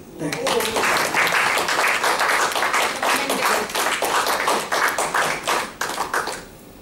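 Audience applause fills a conference hall during an on-stage conversation: dense, loud clapping from many hands, steady at first and then breaking into scattered, thinning claps toward the end.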